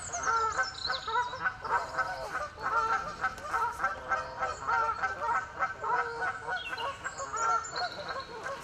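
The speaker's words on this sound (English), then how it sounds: "they call them Canada geese, don't they?" A flock of Canada geese honking continuously, many overlapping calls close by, loud and busy with no pauses.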